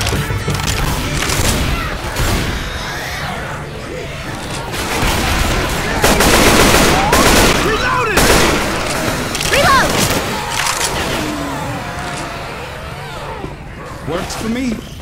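Gunfire in Left 4 Dead 2, loud, rapid bursts of automatic weapon fire and booming shots in a chaotic, continuous stream, with players shouting and talking over the shooting.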